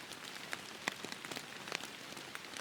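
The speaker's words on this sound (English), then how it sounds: "Well, it means it's been raining a lot." Rain falls softly, with scattered sharper drop taps landing on a surface amid a faint, steady patter and no voices.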